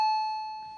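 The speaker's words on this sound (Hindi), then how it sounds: "अबे घंटी बज रही है, कोई दरवाजे पर खड़ा" A single electronic doorbell chime sounds once, a clear bright tone that fades gradually.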